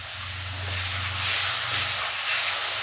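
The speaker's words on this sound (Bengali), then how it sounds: "এবার মশলাটা একটু ভাজা হবে।" Spices with tomato and turmeric frying in refined oil, a steady bright sizzle and hiss with a low hum underneath, close and fairly loud throughout.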